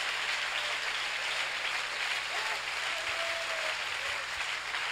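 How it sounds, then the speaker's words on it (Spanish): A church congregation applauds loudly for the Lord during a Spanish-language worship service, a steady dense wash of clapping that holds evenly throughout with no individual claps standing out. "dale ese aplauso fuerte al Señor"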